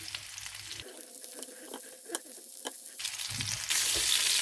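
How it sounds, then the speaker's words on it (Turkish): Steady oil sizzle from cevapcici meatballs frying in a pan, with brief clinks and scrapes of a utensil; the hiss grows louder and brighter near the end. "Şimdi köftelerimiz kızardı. Şimdi diğer yüzünü çeviriyoruz."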